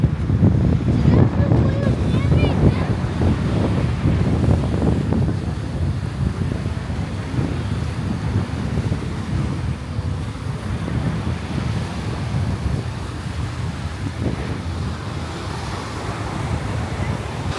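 Surf washes in continuously on Otres beach in Sihanoukville, Cambodia, with heavy wind buffeting the microphone, a loud, rough roar; a voice speaks briefly over it.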